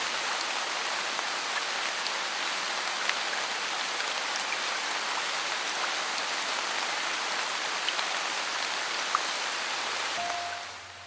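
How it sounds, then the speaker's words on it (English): Heavy rain pours steadily and densely, a constant loud hiss with scattered drips, easing slightly at the very end. "The rain came down strong for 3 full days"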